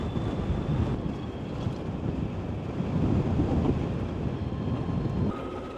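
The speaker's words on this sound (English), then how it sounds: "Getting a bit of help from the wind on the return trip here, as I had hoped for." Wind roars and buffets the microphone during a ride on an Energica Experia electric motorcycle in Iceland, a constant loud rumble with surging gusts and no talking.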